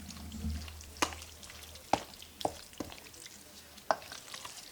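A spoon stirs Dorito lasagna filling with peppers and olives in a pot, making a soft, wet shuffle broken by a few sharp knocks against the side. No one speaks.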